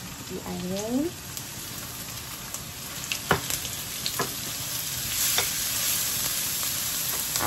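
White onion dropped into a hot pan for a creamy mussel fettuccine sauce, setting off a steady close sizzle dotted with sharp crackles and pops, and a brief tonal squeak from a utensil near the start.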